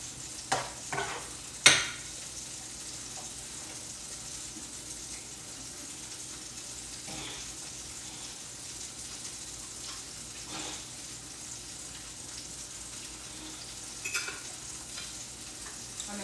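Garlic stirred into butter in a pan, with a steady soft sizzle throughout and a few sharp scraping clicks of the utensil near the start and occasional later, fairly close and without talk.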